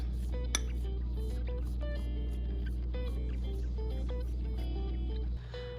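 Spoon clinking repeatedly against a mug while stirring pancake batter of milk, flour and baking powder, quick bright ringing taps in an uneven rhythm, close and clear over a low hum.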